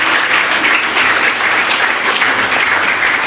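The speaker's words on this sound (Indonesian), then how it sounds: "Tepuk tangan untuk keadilan Tuhan." A church congregation at an evening prayer service applauds. The clapping is loud, dense and sustained, and it carries on steadily with no pause.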